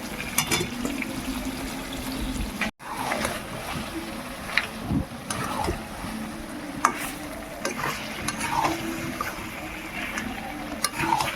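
Potatoes tipped into goat meat cooking in a pressure cooker pot, with wet clattering and stirring scrapes, a brief bump midway, and moist sizzling close by throughout.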